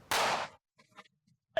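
A single sharp, loud bang bursts out and decays within half a second, followed by faint scattered sounds and a brief click.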